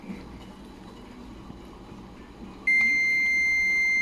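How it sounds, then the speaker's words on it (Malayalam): A steady electronic buzzer beep on an SMPS TV power board under repair switches on abruptly partway through and holds as a loud continuous tone over low background hum. "ബസർ"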